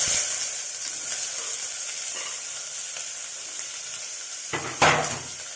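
Chopped onions sizzle steadily in hot oil, a close, even hiss, with a sharper scrape and clatter near the end as they are stirred in the pan.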